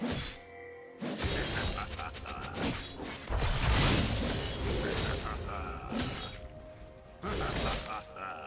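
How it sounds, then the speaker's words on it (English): A League of Legends turret is destroyed in a loud, glassy shattering crash with crumbling and whooshing layers, set among other busy game effects and brief announcer-like voice sounds. "Red team's turret has been destroyed"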